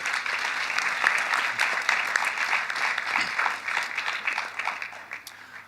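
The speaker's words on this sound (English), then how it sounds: "You guys must clap for us" Steady applause from an audience at a children's sector parliament session, sustained and fairly dense for several seconds before easing slightly at the end.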